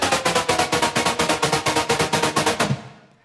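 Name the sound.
ambient sound with OTT, distortion and low cut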